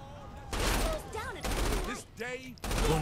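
Repeated bursts of loud gunfire from a weapon in Saints Row IV roar in close succession, interleaved with warbling sci-fi whooshes and electronic sweeps between the volleys.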